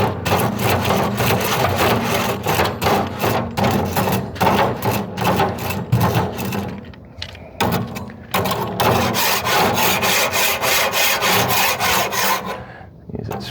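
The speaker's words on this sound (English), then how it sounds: "So we're gonna scrape it clean" Bristle-free grill scraper scraping a grill grate, with loud, continuous rasping strokes in a steady back-and-forth rhythm, a brief lull midway before the scraping resumes.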